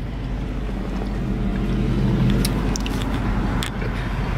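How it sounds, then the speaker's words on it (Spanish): A car's engine runs steadily at idle, a continuous low rumble with faint wind-like hiss and occasional small clicks, no voices over it. "Y mi carro está prendido también."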